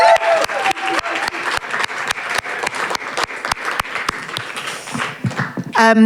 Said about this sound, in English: can we just give a huge round of applause to Grove and EJ AKIN?